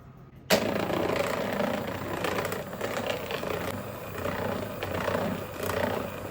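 Plum cake batter beaten together with butter gives a loud, continuous whirring churn that kicks in abruptly after a brief quiet moment and runs steadily to the end.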